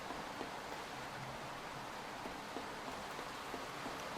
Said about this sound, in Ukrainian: оце дощі